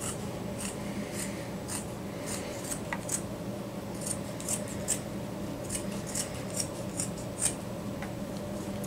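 Scissors cutting out a piece of leather for a feather smudge gift, giving a steady series of crisp snips through the hide, close up and fairly quiet, over a low background hum with no talking.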